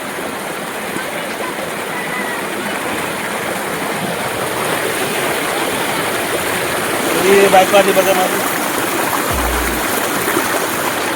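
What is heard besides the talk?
Prabalgad waterfall stream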